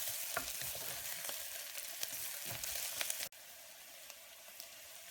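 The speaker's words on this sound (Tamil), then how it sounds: "வெங்காயம் நல்லா வதங்கிருச்சு." Onions sautéing in a hot pan for a ridge gourd kurma, a steady broadband sizzle with scattered stirring clicks that drops abruptly to a quieter hiss about two-thirds through; no voices.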